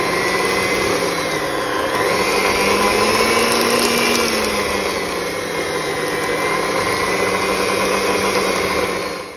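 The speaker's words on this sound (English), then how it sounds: "egg number one goes in and we'll start whisking again" An electric whisk beats an egg into muffin batter for glace cherry muffins, giving a loud, steady motor whine that wavers slightly in pitch and runs unbroken throughout.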